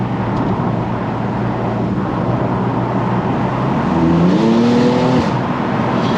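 A rear-wheel-drive BMW M4 driving fast on the street, heard from inside as a loud, steady engine and road roar, with a rising gear-shift tone sweeping upward near the end.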